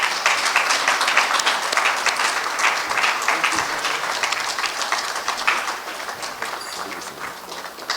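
An outdoor audience claps steadily for a chief guest arriving at the launch of the Mt Kenya Mountain Run, dense continuous applause from many hands that fades slightly toward the end, with no talking over it.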